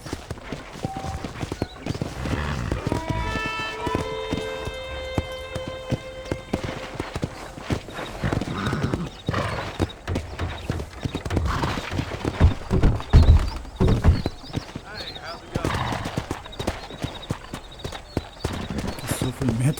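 Horse hooves clip-clop steadily in Red Dead Redemption on PC, with a brief whinny early on, running under continuous character dialogue throughout.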